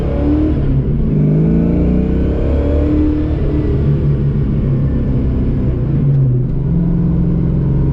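A Ford 302 V8 engine with GT40 upgrade and speed density tuning revs hard and loud, its deep rumbling tone rising and falling steadily for several seconds, close to the microphone with no talking.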